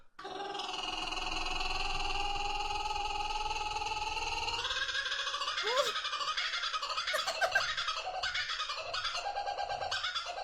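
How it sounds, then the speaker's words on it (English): A laughing kookaburra gives a loud, rising cackling call with rapid repeated hoots and chuckles, building into a raucous laughing chorus. "Or the laughing kookaburra, native to Australia."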